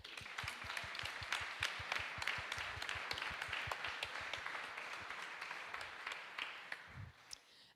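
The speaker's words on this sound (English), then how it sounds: "So a big applause for them." Audience applause at a startup innovation program's closing ceremony, a steady wash of many hands clapping that carries through the whole stretch and begins to thin out near the end.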